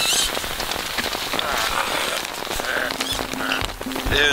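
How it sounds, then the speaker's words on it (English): Heavy rain pours down steadily in Algonquin Park, a dense, loud patter of drops drumming on surfaces with no letup. "It was just started raining and just dumped on us"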